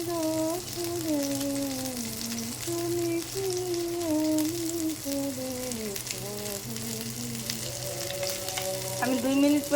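Rohu fish do pyaza fries in a pan with a continuous close hiss of oil, partly buried under a sung melody playing over it.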